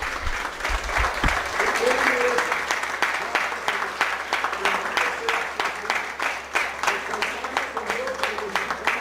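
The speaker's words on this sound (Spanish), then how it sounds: "Un fuerte aplauso a nuestro Dios." A congregation applauds during a Spanish-language worship service: sustained, fairly loud clapping from many people, with a voice speaking over parts of it.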